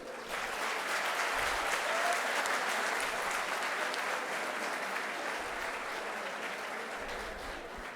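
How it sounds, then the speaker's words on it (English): Sustained, dense applause from an audience at a conference valedictory ceremony, honouring the coordinating teachers and professors, steady and even throughout without speech. "let us give one more round of clap for the teachers or your professors who coordinated with you."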